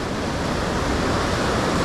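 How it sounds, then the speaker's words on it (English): Ocean waves wash in over coastal rocks during rock fishing, a loud continuous broadband surge of surf and spray close by, with no speech. "Probably is going to continue to wash in, especially when these bigger waves come"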